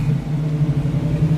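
Steady low engine rumble from a 1969 Chevrolet Camaro with dual exhaust, idling close by with a constant throbbing burble and no talk over it.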